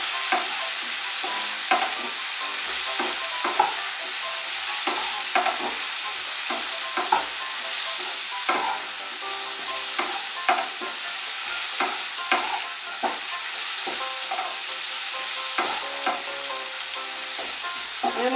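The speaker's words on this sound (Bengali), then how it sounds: "নুন আর হলুদটা ভালো করে মিশিয়ে নেব।" Salt and turmeric being stirred into a frying onion-greens batter, a steady close sizzle of hot oil punctuated by repeated scraping and tapping strokes of the spoon throughout, with no voices.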